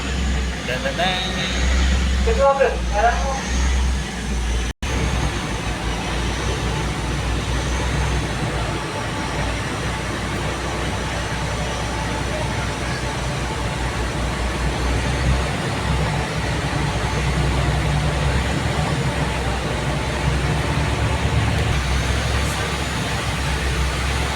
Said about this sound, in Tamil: கப்பல் ஸ்டார்ட் ஆயிடுச்சு மூவ் ஆகுது ஸ்டேக் ஆகுது கிளம்புது சவுண்டு கேட்குதுங்களா